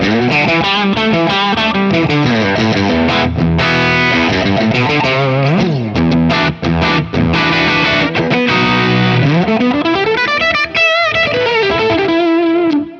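Distorted Ibanez Jem electric guitar with DiMarzio Evolution pickups and its volume knob lowered to about 6 or 7 plays continuous chords and bends with effects, loud and sustained, a slightly softened, rolled-back tone throughout.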